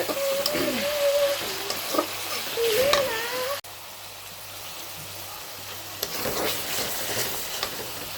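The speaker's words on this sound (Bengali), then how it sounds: "চিকেনগুলো সবগুলো দিয়ে দিব চিকেনগুলো ভালো মতো কষিয়ে" Chicken pieces sautéing in a pan for a kids' pasta snack, with a steady sizzle and scraping stirs close by, a brief break midway, then the frying hiss resumes; faint tonal background sounds but no speech.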